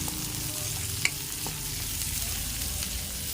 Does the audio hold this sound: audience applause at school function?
no